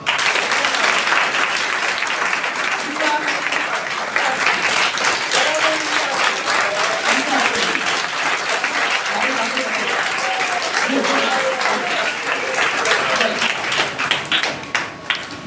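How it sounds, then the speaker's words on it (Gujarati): Loud, sustained applause from a school audience fills a seminar hall, a dense steady clatter of many hands continuing for about fifteen seconds before tapering slightly at the end. "એકવાર જોરદાર તાળી થઈ જાય."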